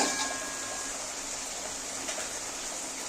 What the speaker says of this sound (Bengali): সামান্য একটু জল দেব